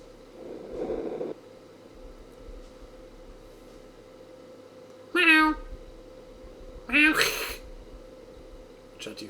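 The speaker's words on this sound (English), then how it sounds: "Shut you fucking shitty cat." A cat meows in the room, two short, fairly loud cries a couple of seconds apart over a steady low hum from a video game.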